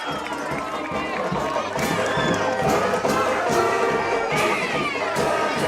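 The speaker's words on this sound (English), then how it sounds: "Good rousing welcome from the crowd" Crowd noise at a high school football game between Concord and Keene, a loud rolling wash of cheers and chatter with scattered claps and shouts, while an announcer talks over it.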